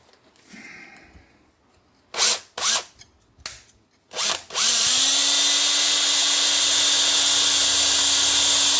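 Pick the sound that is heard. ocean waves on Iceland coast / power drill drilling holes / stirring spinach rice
power drill drilling holes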